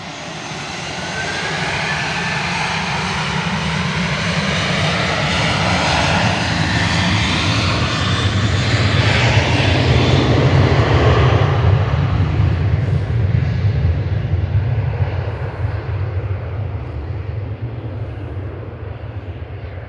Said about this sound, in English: lining up on 2-3 left in parallel is Ryanair 6816 to Milan